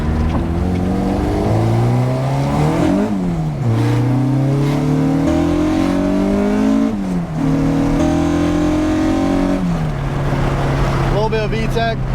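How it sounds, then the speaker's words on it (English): A Honda engine with stage 2 cams revs hard from inside the car, its pitch climbing in loud sweeping rises and dropping back twice before a sharp VTEC crossover howl, with a voice talking over it. "does this thing have the loudest VTEC engagement I have ever heard from"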